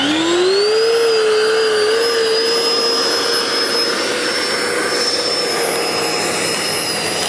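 An FMS Rafale 64mm EDF model jet taxis on grass, its ducted fan whining loud and close, the pitch rising in the first second and then holding a steady high tone.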